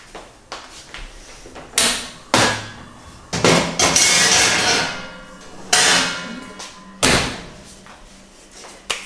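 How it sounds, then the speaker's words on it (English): A metal baking tray set upside down into an oven to preheat for a thin, crispy vegan pizza, heard as a series of sharp clanks and metallic bangs with short scraping slides between them, close and fairly loud. "I am going to place a baking tray into the oven to warm up"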